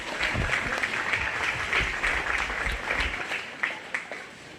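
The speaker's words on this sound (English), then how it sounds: "Go ahead and give all three of those exhibitors a big round of applause." Audience applause for exhibitors at a 4-H/FFA goat show, a steady round of clapping from a crowd that tapers off near the end, with a few scattered final claps.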